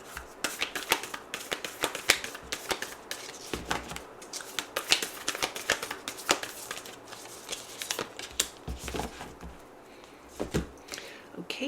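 Tarot cards are shuffled and drawn by hand, close up. Quick papery riffles, snaps and slaps come in irregular bursts throughout, with brief pauses between handfuls.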